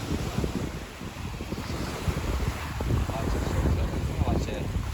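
Sea waves washing steadily on a slightly choppy stretch of sea, a soft continuous surf wash mixed with wind noise, fairly faint and unbroken.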